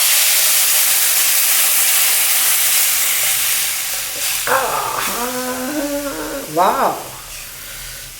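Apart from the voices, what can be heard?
tamarind rasam boiling and sizzling with tadka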